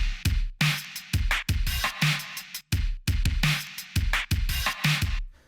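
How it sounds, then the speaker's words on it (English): Drum samples played back in a mixing session, punchy kick and snare hits in a tight repeating pattern with short silent gaps between the phrases, clean and close. "And then we have all these little drums that Michael sent."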